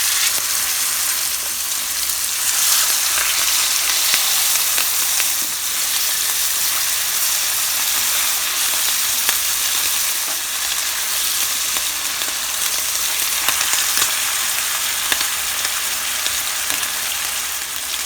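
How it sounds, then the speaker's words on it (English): Steaks sear in butter in a hot cast iron skillet, a loud, dense, unbroken sizzle close up, steady throughout with no voices. "let them get a good sear on it"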